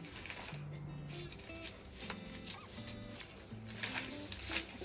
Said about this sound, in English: I'll trim it out and cut.